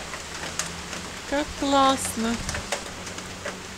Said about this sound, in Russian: на улице жарко, дождь теплый